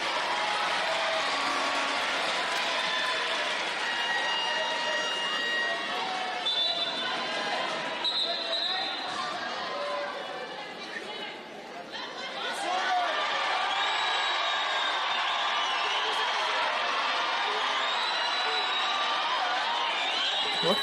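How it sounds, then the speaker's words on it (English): Arena crowd noise fills a women's under-18 basketball semi-final between Egypt and Madagascar, a steady roar and murmur with a ball bouncing and commentary over it, dipping briefly before swelling again. "Lots of activity in the crowd,"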